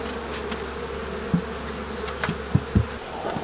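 Honeybees from a swarm remnant in a beehive hum in a steady low buzz, with individual bees zipping close past the microphone now and then.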